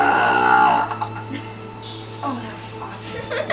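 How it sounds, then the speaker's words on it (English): A loud belch bursts out during a hot dog eating contest, with excited voices and reactions from onlookers overlapping it. "Belch it out."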